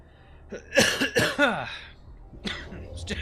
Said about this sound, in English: Still recovering from the cough.